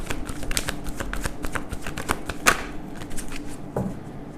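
A deck of tarot cards is shuffled up close in rapid riffling bursts of crisp card flicks, with a few sharper snaps standing out and no talking.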